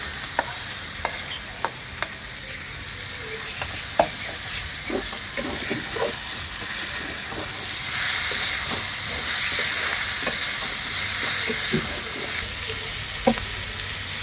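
Boiled cabbage stirred in a hot pan with paste and turmeric, a continuous sizzle and hiss broken by frequent sharp scrapes and taps of a spatula over about fourteen seconds, with no talking.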